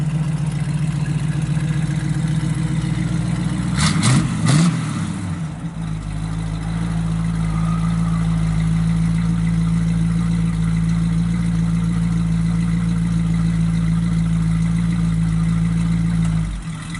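Steady idle from a 1968 Chevrolet Camaro with a 327 four-barrel V8 and mild cam, rumbling close and loud from the exhaust, with a brief blip around the fourth second before settling back to an even lope; no talk.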